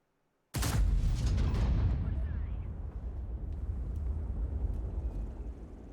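Heavy booming gunfire and cannon shots from a tank video game, a loud burst that opens suddenly, then a sustained rumbling roar of battle with scattered distant shots.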